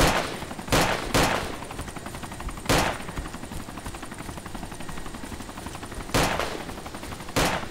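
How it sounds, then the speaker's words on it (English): Gunfire in the ARMA 2 DayZ Overpoch game: several sharp, loud shots ring out in scattered bursts over a steady rumbling background, with no one talking. "I will continue shooting"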